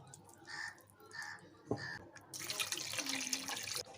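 A crow caws a few times in the quiet, then a kitchen tap gushes loudly as food is rinsed under the running water, the splashing continuing steadily to the end.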